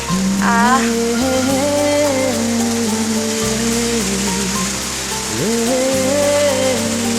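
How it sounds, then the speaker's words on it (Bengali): Evening rain falling outside an open window, a steady, fairly loud hiss of rain on surfaces, with sustained droning tones that rise and fall layered over it throughout. "বিকেল গড়িয়ে সন্ধে নেমেছে, আর সাথে বৃষ্টি শুরু, কি ভালো লাগছে।"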